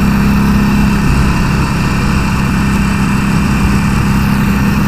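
A motorcycle engine runs steadily and loudly throughout, a low rumbling drone with a constant idle-like pulse and no voices.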